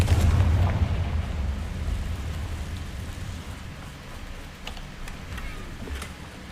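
A Confringo fire spell explodes in Hogwarts Legacy, a loud burst at the start followed by a rumbling, crackling roar that slowly fades, with a few sharp ticks near the end.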